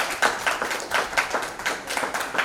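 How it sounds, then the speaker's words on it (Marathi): An audience at a family stage show claps in a brief burst, the sharp hand claps landing in a quick, uneven rhythm, fairly faint and heard from a distance in the room. "त्याच्यासाठी जोरदार टाळ्या झाल्या पाहिजे"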